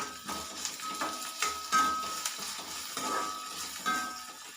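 Okra frying in a pan with salt for a Tamil vendakkai kulambu, sizzling steadily while being stirred, with a few clinks of a spoon against the pan, close and moderately loud.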